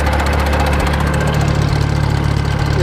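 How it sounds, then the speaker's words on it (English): A hay mower on a Ranch Rite 165 setup behind an IH Super MTA tractor keeps spinning, back driven through the PTO, giving a steady loud rhythmic mechanical drone and thrum heard close up. "If I unhook the PTO shaft now, it'll start just spinning, being back driven by the mower."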